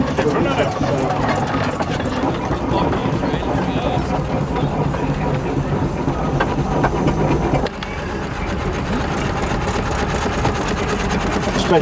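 A three-front-bar Scotsman engine from before the First World War runs steadily and loudly at an outdoor vintage show, a continuous rumbling clatter throughout with a brief dip partway.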